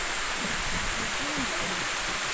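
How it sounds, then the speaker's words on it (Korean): Deungnyong waterfall on Myeongseongsan mountain produces a constant, broad rushing roar of falling water, close and unbroken throughout, with a faint voice briefly underneath. "등룡폭포입니다."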